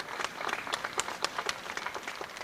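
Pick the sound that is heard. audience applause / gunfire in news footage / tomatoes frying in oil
audience applause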